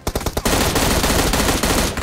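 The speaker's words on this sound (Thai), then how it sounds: "ฝั่งตรงข้ามยิงกูเมื่อกี้" Rapid automatic gunfire in the battle-royale shooter PUBG Mobile: a few separate shots open, then a dense, loud, sustained burst of fire that runs for about a second and a half with no talking.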